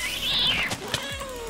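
A cat meows once, a clear rising-then-falling mew near the microphone, followed by faint clicks and soft background noise, with no speech.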